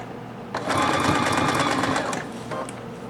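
A sewing machine stitches beach tote bag fabric in one short run of rapid, even needle clatter lasting about a second and a half, close and clear, followed by a brief pause and a quick final burst.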